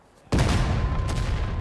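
A cannon fires in the Civil War video game War of Rights, a sudden loud boom after near silence that rumbles on, with a faint second report about a second later.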